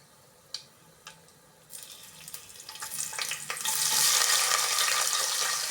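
A couple of light taps, then frying swells into a loud, dense sizzle that keeps building and holds steady, close by.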